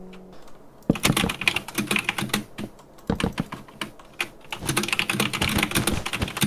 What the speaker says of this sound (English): Damn, this typing ASMR.